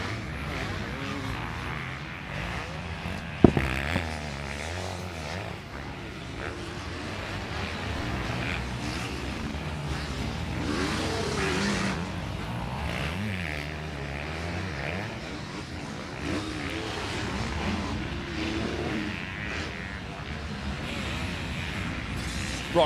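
A Husqvarna motocross bike ridden around a rough race track, its engine droning and revving continuously at middle distance, with a brief sharp knock early on and commentary voices mixed in.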